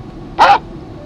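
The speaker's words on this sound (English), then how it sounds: "I found that car horn and dog bark are a little obnoxious." A memory game app plays its dog bark sound effect: one short, loud bark, close and clear over faint background hiss.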